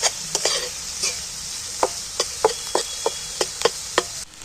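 Onions frying in hot oil for a chicken dish, stirred often so they do not brown, give a steady sizzle broken by a dozen sharp scrapes and clacks of the spoon against the pan, close and clear with no talk.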